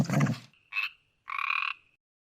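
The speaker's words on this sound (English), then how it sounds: "The two monsters croaked and gurgled at each other." Frog-like monsters croak at each other from murky water: a low gurgle followed by two distinct, resonant croaks, the second longer, separated by silence.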